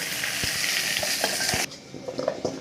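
Pointed gourd frying in a pan with a loud, steady sizzle and a few spoon knocks, then the sizzle drops sharply to a softer crackle near the end.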